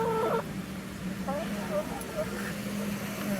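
Several chickens cluck softly nearby indoors in short, scattered calls over a steady low background hum.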